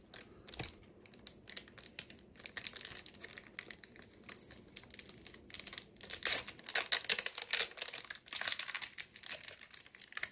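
A Pokemon Detective Pikachu card pack wrapper is torn and crinkled open up close, giving dense, irregular plastic crackles and rustles that swell louder in the second half, with no talking.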